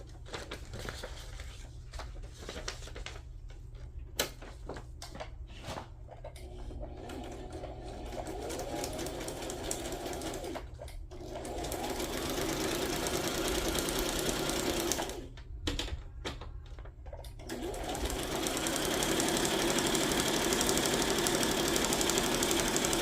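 A sewing machine stitching down signature pages of a flipflop journal made from vintage book pages, a close rapid mechanical whir running in bursts with brief pauses and a steadier run toward the end.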